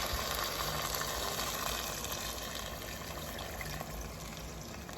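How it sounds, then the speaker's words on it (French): Water poured into a pan of salmon and vegetables, a steady close gushing splash that fills the whole moment and tapers slightly toward the end, with no speech. "je vais mettre un petit peu d'eau"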